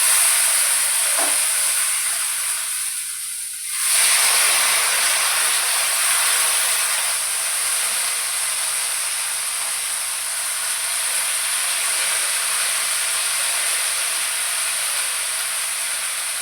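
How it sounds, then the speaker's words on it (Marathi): Cluster beans roast on a hot griddle with a steady broadband hiss of steam and sizzling that holds through the whole stretch, briefly dipping near the start before resuming. "प्रथम आपण गवारी भाजून घेऊया."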